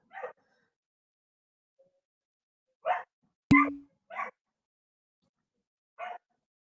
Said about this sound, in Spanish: perro que está haciendo un montón de bulla